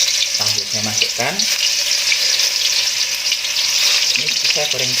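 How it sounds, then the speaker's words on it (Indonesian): Firm tofu frying in hot cooking oil, after peanuts were fried in the same pan, giving a steady, loud, close sizzle throughout, with a voice speaking briefly over it. "Ini saya goreng dulu biar nggak hancur."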